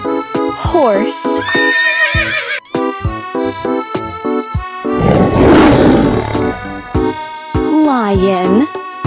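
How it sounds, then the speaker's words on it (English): A horse neighs in a loud, wavering whinny, heard close and clear among other animal sounds including a roar, with snorting and a rough breathy burst in between. "Horse."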